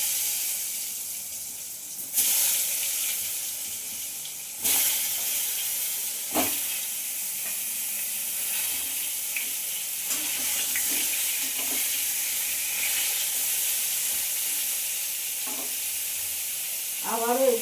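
Pointed gourd (potol) frying in a covered pan sets up a steady, close sizzle and hiss that runs the whole way. A few clinks and knocks of cookware break in now and then.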